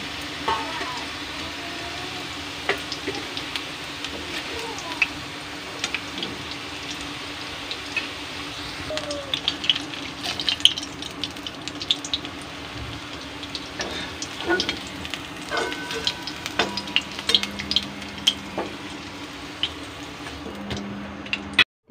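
Oil fries in a pan, with a faint, steady sizzle and scattered small ticks and clinks running throughout, fairly close but quiet, with a low hum underneath and no speech.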